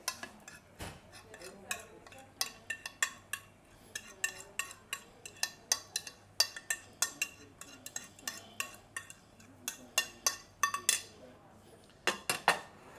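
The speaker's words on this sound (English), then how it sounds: "And then we'll just scrape in the marinade residue." A utensil scrapes marinade residue from a pan while cooking mahi mahi, clinking repeatedly with uneven taps and scrapes over a faint sizzle and low hum.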